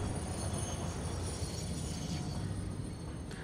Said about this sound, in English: I know that I'm not using this train the way that it's supposed to be used.